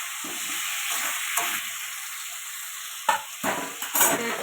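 Bhola fish curry with potato and tomato sizzles in a pan, a steady frying hiss heard close up with soft stirring scrapes and clinks of a utensil.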